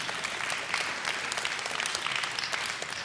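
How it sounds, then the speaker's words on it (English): Applause breaks out among worshippers at an Erev Shabbat synagogue service, many hands clapping in a dense, even patter that holds steady at moderate loudness from start to finish. "you can clap, that's something to clap about"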